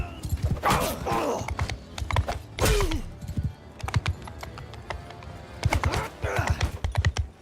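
Horse hooves clip-clop in a quick galloping rhythm during a Mount & Blade II: Bannerlord battle, mixed with whinnies and scattered clashing game noise.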